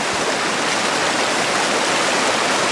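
A creek running along a snowy shore in Kananaskis on the Porcupine Ridge route, its flowing water a steady, loud, unbroken rush that holds even from start to finish with no voices.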